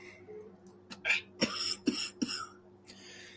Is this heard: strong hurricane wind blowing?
no